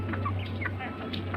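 Chickens being fed in a farmyard, soft intermittent clucks scattered over a low steady hum, fairly close and faint, with a voice speaking in the background.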